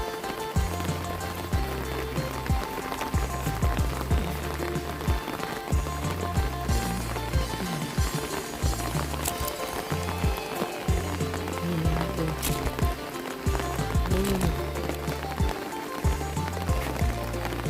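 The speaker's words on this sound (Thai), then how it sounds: "โอ้น้ำไหลแรงมาก" Rushing water pours and gurgles continuously, a strong steady flow with splashy texture, close by and loud, with no talking.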